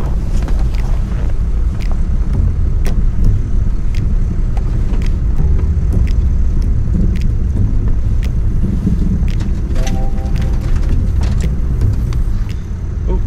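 Car fitted with snow chains trying to climb a hill, a steady loud rumble of engine and tyres with clattering ticks and wind buffeting throughout, and a brief whine near the end.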